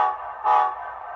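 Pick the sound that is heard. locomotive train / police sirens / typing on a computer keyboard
locomotive train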